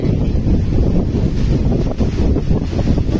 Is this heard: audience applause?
no